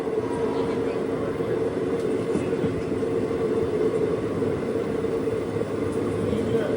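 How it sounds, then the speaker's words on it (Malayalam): A train pulls into Perambur railway station, giving a steady, loud rumbling drone with a constant hum and no distinct breaks. "ട്രെയിൻ ഇതാ പെരമ്പൂർ റെയിൽവേ സ്റ്റേഷനിലേക്ക് എത്തിയിരിക്കുകയാണ്"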